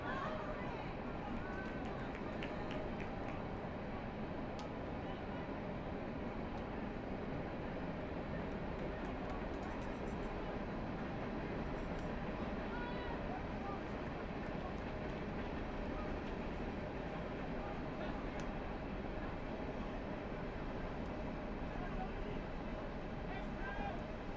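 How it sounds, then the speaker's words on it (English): Train rumbling past near a high school boys' varsity soccer field, a steady loud broadband roar running throughout, with a commentator talking over it. "Still got that train going there. Apologies for all that noise."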